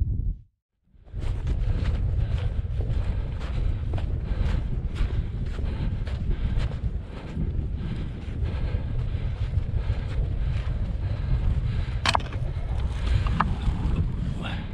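Strong, steady wind buffeting the microphone on a freezing Pennines fell near Calf Top, a continuous loud low roar with gusty rushes and occasional sharp crackles, no talking.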